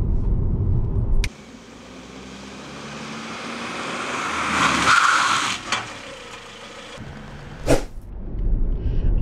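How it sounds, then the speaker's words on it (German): A car without working ABS brakes hard on asphalt, wheels locking and skidding, heard as a loud engine and tyre roar that drops abruptly, a sustained scraping skid, then sharp noise bursts near the end. "Ich gehe voll auf die Bremse, die Räder blockieren, das Auto lässt sich nicht mehr lenken, die Räder rutschen über den Asphalt"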